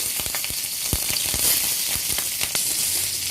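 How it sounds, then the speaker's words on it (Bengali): Dried red chillies and a bay leaf frying in hot oil give a steady, bright sizzle with small crackles and pops, fairly close and uninterrupted by speech. "একটা তেজপাতা দিয়ে দিলাম এগুলো লাল লাল করে একটু ভেজে নিচ্ছি"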